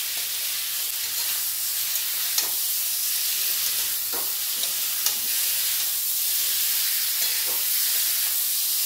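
Potato and young jackfruit pieces sauté together in a pan, a loud continuous sizzle broken by repeated scrapes and soft knocks of a stirring spatula.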